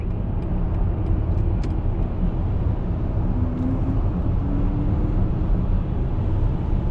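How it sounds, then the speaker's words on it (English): A 2022 BMW iX electric car under way, giving a steady broadband road and wind rumble heard from inside the cabin with no obvious engine note, holding constant throughout. "Where I'll be able to see firsthand some of that renowned BMW and electrical car acceleration"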